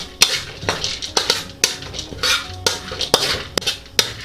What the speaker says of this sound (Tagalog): Haluin lang natin to ng haluin hanggang sa medyo mag-brown na siya.